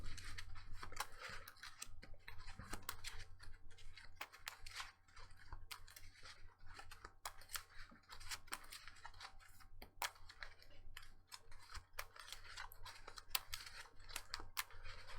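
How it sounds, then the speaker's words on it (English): Harry Potter trading cards being shuffled by hand, a fast run of crisp, close, quiet clicks and riffling snaps that repeats in bursts, with no voices. "Do some shuffling."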